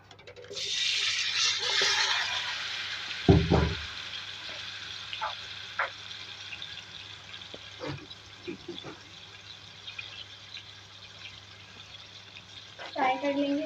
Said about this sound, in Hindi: इस ऑयल में चिकन ऐड करेंगे।